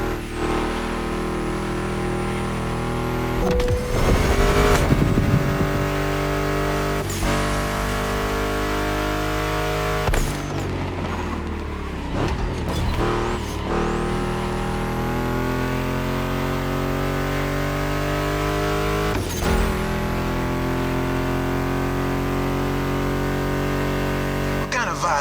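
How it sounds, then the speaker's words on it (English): A Ford Mustang GT muscle car engine in The Crew Motorfest racing game drones and revs loudly, with brief breaks at gear shifts, mixed with music throughout. "Meshes well with the sound of the engines, you feel me?"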